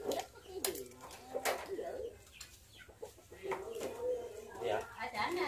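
A pigeon coos in repeated soft calls at a family meal under a newly roofed house, with people talking nearby and other birds clucking around it.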